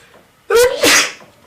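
A single loud sneeze, close up, with a quick intake and a forceful burst.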